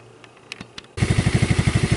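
Small engine of a Cazador Scorpion Ultra Deluxe 200 UTV, not counterbalanced, starting up after quiet clicks and then running with a loud, rapid, evenly pulsing chug close by.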